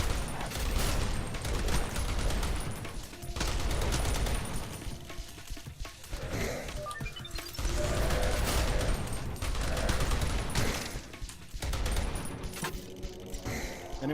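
A heavy machine gun in a video game demo fires sustained, loud bursts of rapid shots, broken by brief pauses, over dense game effects.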